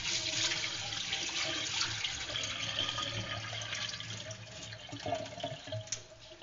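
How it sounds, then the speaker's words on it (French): Water being emptied out at home, a steady, fairly loud rushing and splashing pour that runs throughout, with slight variation near the end and no talk. "Maintenant je vais aller vider l'eau"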